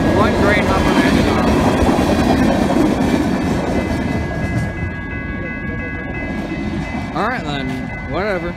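A freight train hauling fast past a trackside spot in Spokane on a Sunday morning, a loud continuous rumble and rattle of cars close by, with squealing wheel tones near the end.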